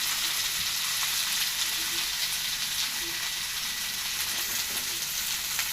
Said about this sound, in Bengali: গোল্ডেন গোল্ডেন কালার চলে এসছে পেঁয়াজটার মধ্যে, ভাজা ভাজা হয়ে এসছে পেঁয়াজটা